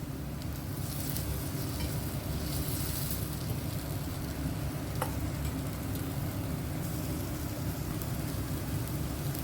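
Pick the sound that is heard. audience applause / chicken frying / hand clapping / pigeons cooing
chicken frying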